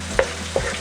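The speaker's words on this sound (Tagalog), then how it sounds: "Hihintayin lang po natin na mag golden brown ang ating bawang" Garlic frying in oil over medium heat, a short burst of soft sizzle with two quick clinks of a utensil against the pan.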